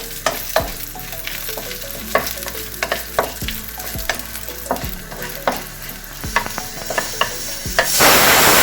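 Red chilies and cumin seeds fry in a pan with a steady sizzle and regular spoon clicks and scrapes from stirring, ending in a louder hiss.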